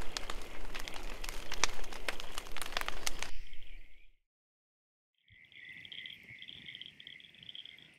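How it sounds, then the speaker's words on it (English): Dense chorus of frogs and insects trilling steadily at dusk in a winter bush camp, with a brief silent gap before high-pitched insect-like calling resumes, continuous and moderately loud. "Birds settling in, frogs starting off."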